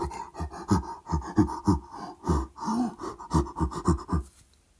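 A voice imitates a gorilla panting: a run of short, rhythmic huffing breaths in quick bursts, close and fairly loud, with a brief pause midway before the panting resumes and then stops.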